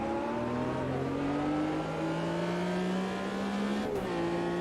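Mercedes race car in the Automobilista 2 racing game, engine droning steadily at high revs with its pitch gradually climbing, a brief drop near the end as gears shift, loud and continuous with no talk.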